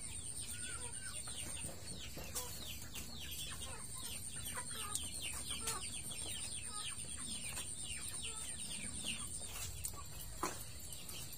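Farmyard chickens being fed a mix of feed and corn cluck and chatter constantly, many birds together in a busy, overlapping stream of short calls, fairly near but quiet, with no talking.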